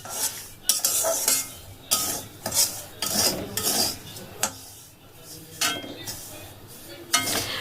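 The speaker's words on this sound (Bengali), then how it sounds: "ঘি দিয়ে আবার একটুখানি নাড়াচাড়া করে নেব ভালো করে" A spoon stirs paratha stuffing in ghee in a pan, with repeated scraping strokes, metallic clinks against the pan and a faint sizzle underneath.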